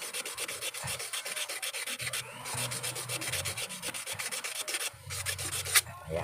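Rapid rhythmic rasping of coarse sandpaper scrubbing back and forth on an electric fan motor's metal shaft, close and steady with short pauses between bursts.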